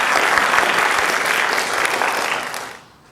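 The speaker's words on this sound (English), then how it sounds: "Big round of applause for Ravi Shankar." An audience applauds a percussionist at a Bharatanatyam arangetram: steady, dense clapping from a sizable crowd that carries on for a few seconds, then quickly fades out.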